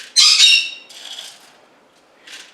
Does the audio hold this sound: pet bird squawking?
yes